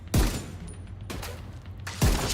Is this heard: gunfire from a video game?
yes